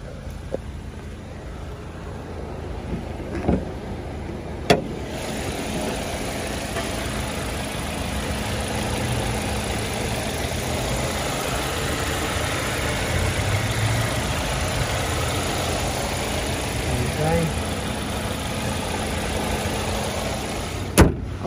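A 2020 MG MG3 Core car engine idles steadily and evenly, a low continuous rumble with a couple of sharp clicks or knocks near the start and end.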